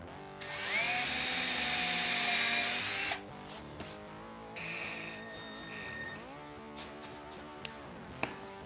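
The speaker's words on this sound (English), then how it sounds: "run a screw up through there and into the center of my square" A power drill drives a screw up through a wooden board into a square, with a loud steady whine for about three seconds, a pause, then a shorter, quieter burst, followed by light handling clicks.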